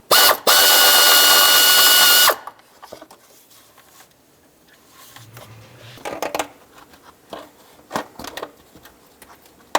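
A power tool spins out a 10mm screw holding a bracket to the intake of a 2006-2011 Chevy HHR: one loud, steady whirring burst of about two seconds, then quieter clicks and clanks of handling nearby.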